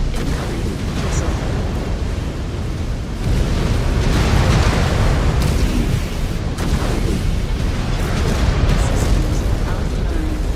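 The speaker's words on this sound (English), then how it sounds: "Incoming missile." Missiles slam into a battle mech in the video game MechWarrior 5: Clans, producing heavy, loud booming explosions that merge into a continuous roaring rumble across the clip.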